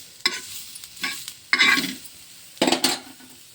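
Onion and other chutney ingredients roasting in a little oil, heard as four short, close bursts of sizzling and spatula scraping against the pan, separated by near-silent gaps.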